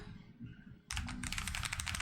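Computer keyboard keys pressed in a rapid flurry of clicks that starts abruptly after a quiet moment, close and clear.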